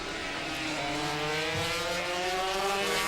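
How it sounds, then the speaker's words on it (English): Racing motorcycles at the Dundrod road circuit braking hard and downshifting, a loud, close engine note with falling revs and gear changes, continuous and without talk. "Hard on the brakes, down the gearbox to go."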